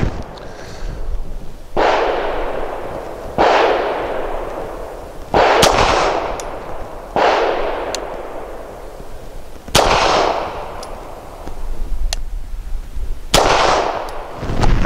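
Sharp pistol shots from a Tisas Zigana F firing Federal Syntec 147 grain ammunition, six loud cracks spaced a second or two apart, each trailing into a long echoing decay, with no voices.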